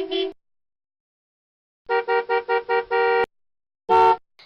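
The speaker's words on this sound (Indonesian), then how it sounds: "itu suara lakson mobil si Cakra" A car horn in Sakura School Simulator honks: one short beep, then a rapid string of five quick toots and a longer blast, followed by another short honk.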